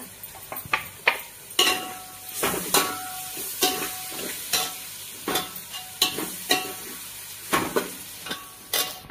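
Finely chopped onions, two of them, fry in a pan for an egg biryani, giving a steady close sizzle broken by repeated scraping stirs and light utensil knocks against the pan, with no talking.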